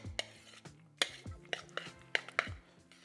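Small tongs clack and scrape against a dish while mixing beef nem filling, a quick irregular series of close, light taps and knocks.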